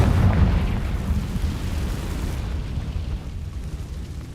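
A Confringo fire spell bursting in Hogwarts Legacy on the Switch 2, a loud booming explosion that hits at once and then rumbles and decays over several seconds with no voices.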